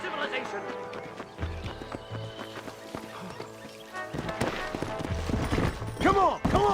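Horses gallop and whinny during a frantic escape in the Western video game Red Dead Redemption, hoofbeats clattering under shouted urging and game music, with excited voices talking over the ride.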